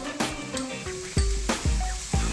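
Onion, ginger and garlic frying in a pan, a close sizzle broken by several sharp knocks and scrapes as a utensil stirs them.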